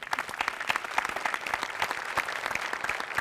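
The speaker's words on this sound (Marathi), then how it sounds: "तर मराठी भाषेसाठी एकदा टाळ्या." Enthusiastic studio audience applause at a Marathi comedy sketch show, a dense, steady patter of many hands clapping close by for the whole stretch with no pauses.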